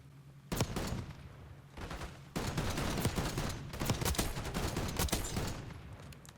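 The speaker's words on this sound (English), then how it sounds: "So it takes a couple of shots to eliminate a player." Rapid bursts of gunfire from a video game shooter, loud and close, with sharp repeated shots in clusters and brief pauses between volleys.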